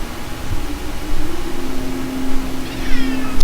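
A house cat meows once near the end, a brief, rising, fairly faint cry over a steady low electrical hum and background noise.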